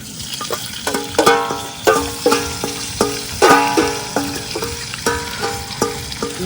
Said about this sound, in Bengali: আজকে একটু ফ্রাই করবো রাইসটা হালকা করে